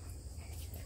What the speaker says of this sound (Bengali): আর একটা কি জানি পোকায় ডাকতেছে